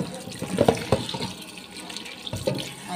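Water runs from a tap in uneven splashes, with a few brief knocks and clatters near the sink, fairly close and steady throughout.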